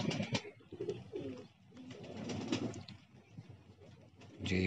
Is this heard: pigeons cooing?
yes